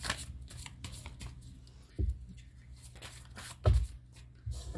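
Tarot cards are shuffled and drawn, soft papery riffles and slaps in quick bursts with a few sharper snaps, close and quiet.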